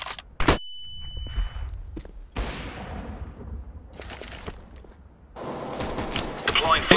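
Grenades thrown in Counter-Strike: Global Offensive, a smoke grenade and a flashbang, with sharp bursts, a hiss and a tonal ring amid in-game gunfire and clatter, under occasional voice talk.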